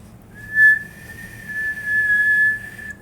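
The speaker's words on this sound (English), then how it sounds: "And now Peter's whistle was heard" A single sustained, clear whistle holds a steady high pitch for a few seconds, close and fairly loud, with no talking.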